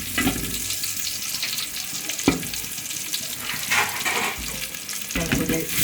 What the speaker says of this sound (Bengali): চাউলটা সুন্দর করে আমি ভেজে নিচ্ছি